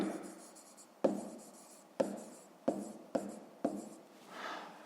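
Digits being handwritten with a pen on paper: five distinct scratchy strokes spaced about a second apart, close and quiet, with no talking.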